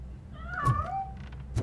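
A single drawn-out cat meow in the Robocop: Rogue City video game, rising then falling, mid-distance, followed by a short thump over a low hum.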